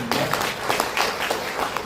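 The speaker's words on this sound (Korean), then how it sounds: "박수 한번 부탁드리겠습니다" Brief applause from an audience at a forum on elder welfare and long-term care facilities, with a handful of distinct claps over a light murmur and a voice underneath.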